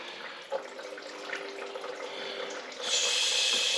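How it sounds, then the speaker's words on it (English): Raw fuel pours and trickles steadily in a thin stream from a John Deere Z225 mower engine flooded with gas, nearby and moderately loud, becoming a stronger, brighter gush toward the end. "And you hear it. It's just running out like water."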